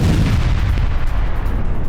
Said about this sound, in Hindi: रूस के सीक्रेट नेवी बेस पर बड़ा विस्फोट